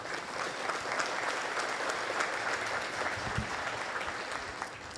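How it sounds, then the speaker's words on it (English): An audience at the Opelika State of the City Address gives a sustained round of applause, a full, even wash of clapping hands lasting several seconds with no pause. "Let's give them a round of applause"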